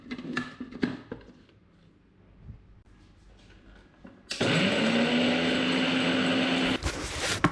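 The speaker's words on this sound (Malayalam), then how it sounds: "ചൂടാക്കി എടുത്തതിന് ശേഷം അത് ചെറുതായിട്ടൊന്ന് തണുക്കുമ്പോൾ നമുക്കൊരു മിക്സിയിലിട്ട് അതൊന്ന് പൊടിച്ചെടുക്കാം." Electric mixer grinder grinding roasted masala for chicken ghee roast: after a few seconds of quiet kitchen clatter, the motor starts loud, rises in pitch, whirs steadily for about two and a half seconds, then cuts off.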